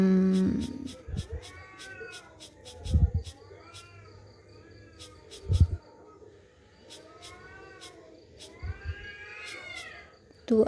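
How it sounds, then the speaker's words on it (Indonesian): A neighbour's cat meows repeatedly in drawn-out, wavering calls, some overlapping like caterwauling, moderately close behind a quiet room with occasional thumps. "Tuh ada suara kucing tetangga."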